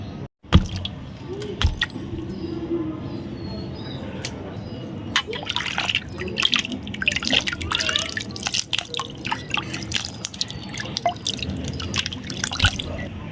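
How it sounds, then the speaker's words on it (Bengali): Mangoes being washed in water, with steady dripping, splashing and squishing from close by across the whole stretch, and no talk over it. "তো চলুন আমগুলো ধুয়ে নিই।"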